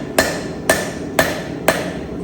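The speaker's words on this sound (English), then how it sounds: "last pass for straightening. You'll see that my reins have taken an upward set, so I just flip it this way and use the length of the anvil again" Four evenly spaced hammer blows ring out on forged steel tong reins being straightened on an anvil, each a sharp metallic strike with a short ringing tail, close and distinct.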